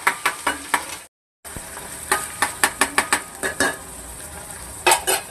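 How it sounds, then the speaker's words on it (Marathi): Spice paste roasting in oil, sizzling steadily while a spoon scrapes and knocks against the pan in a quick series of sharp strokes, with a brief silent gap near the start. "तेलामध्ये मी छानपैकी हा वाटप ना तेलामध्ये भाजून घेणार"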